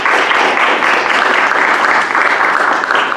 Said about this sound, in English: So if we give them a round of applause.